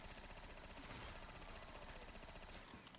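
Rapid automatic gunfire rattles in the Black Ops 3 Custom Zombies video game, a fairly faint, steady burst of shots lasting a few seconds.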